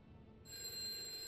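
In the video game A Way Out, a telephone starts ringing during a prison phone call: a steady electronic ring begins abruptly after a moment of near silence and holds clearly.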